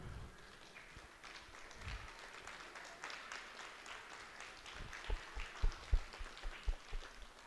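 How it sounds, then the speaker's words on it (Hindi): Applause from a crowd at a religious gathering, a Vishwa Shanti Hawan ceremony in Toronto, with steady distant clapping that grows into louder, sharper individual claps toward the end; no talking. "जोरदार तालियों से इनका स्वागत।"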